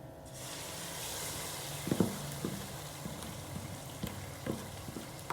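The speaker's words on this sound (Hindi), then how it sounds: "अब साग को मैं तकरीबन 10 मिनट के लिए भूनूँगी मसाले में" Saag greens sizzling as they fry in spices of salt, red chili and turmeric in a pan, with a steady close hiss and occasional clinks and stirring scrapes.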